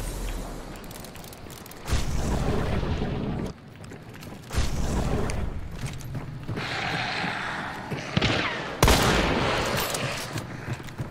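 Gunfire in the zombie-filled bayou world of Hunt: Showdown, with several loud, sharp reports booming and echoing at intervals over a rumbling game ambience.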